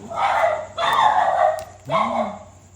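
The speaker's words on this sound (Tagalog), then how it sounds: "pati aso nag-aaway na" Three bursts of dog barking and yelping close by, rough and agitated, with a short whine in the last one.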